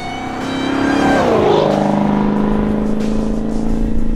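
A Dodge Challenger or Charger with an MBRP exhaust revs hard at an expo booth, its loud engine climbing and then holding a steady, rumbling roar.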